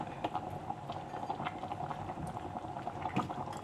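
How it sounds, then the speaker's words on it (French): An okra and pepper stew simmering gently in a pot gives a soft, steady bubbling with small irregular pops, close and fairly quiet throughout. "On laisse mijoter."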